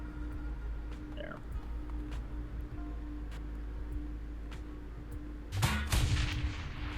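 A grenade explosion in a tactical video game, a sudden loud booming blast near the end that rolls out over a steady low background hum, preceded by faint scattered ticks and clicks.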